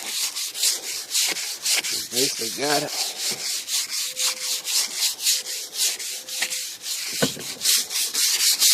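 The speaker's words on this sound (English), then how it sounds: "And just keep on sanding like this here" Sandpaper rubs back and forth over the paint of a 1988 Cadillac DeVille Classic, a continuous close scratchy rasp with quick rhythmic strokes while someone briefly talks.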